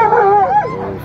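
Dog barking and yipping at an international dog show in Faisalabad, where big dogs are being teased; a close, loud, continuous bark-whine with rising and falling pitch lasting about a second.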